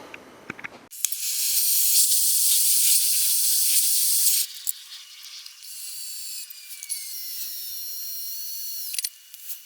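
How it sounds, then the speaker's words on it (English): Drilling and tapping a bolt hole for mounting a replica steel M1 helmet onto a monument build: a loud, steady high-pitched grinding drone that runs for several seconds, then drops to a lighter continuous whir with brief interruptions, no voices. "so I've got my hole drilled and tapped over there."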